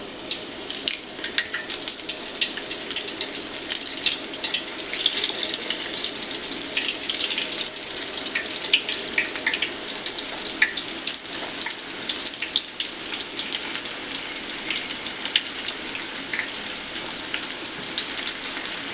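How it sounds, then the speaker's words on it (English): Shrimp coated Cajun style deep frying in hot oil, a steady bright crackling sizzle with dense popping bubbles, close and continuous without pause. "because I'm deep frying them"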